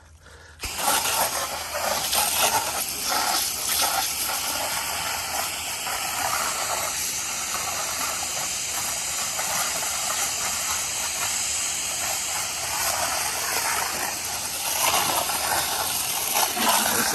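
Steady hissing spray from a softwash sprayer cleaning a house exterior runs continuously at close range, a broad pressurized rush with faint mechanical ticking underneath and no talking.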